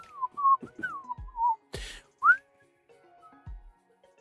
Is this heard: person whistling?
yes